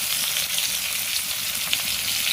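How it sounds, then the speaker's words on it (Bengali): Pointed gourd (potol) frying in hot oil, a steady, close hiss of sizzling throughout with faint crackles and no talking. "পটলটা লাল লাল সুন্দর করে ভাজতে হবে"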